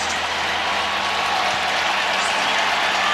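Stadium crowd at an NFL game between the Los Angeles Rams and Indianapolis Colts, a dense, steady roar of cheering and clapping filling the whole moment.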